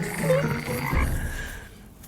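Frogs croaking in a restaurant kitchen, a dense overlapping chorus of low croaks and calls sitting close and fairly loud for about two seconds before thinning out.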